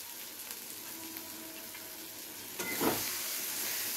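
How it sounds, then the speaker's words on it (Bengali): Chopped tomatoes fry faintly in a spice masala for a Bengali fish curry, a soft, steady sizzle with a brief louder hiss partway through. "টমেটো কুচিটা দিয়ে আবারও একবার খুব ভালো করে কষিয়ে নেব যতক্ষণে না টমেটোটা নরম হয়ে যাচ্ছে"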